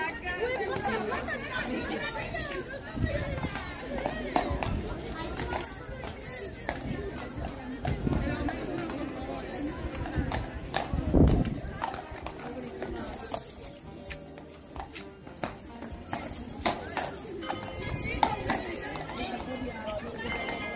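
A Royal Guard horse's hooves clip-clop on pavement as it is led away amid a busy crowd's chatter, the steps steady and partly buried under voices.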